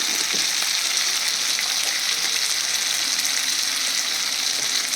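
Steady broadband sizzle of drumsticks and potatoes frying in spiced masala with ghee, a continuous loud crackle with no pauses and no talking.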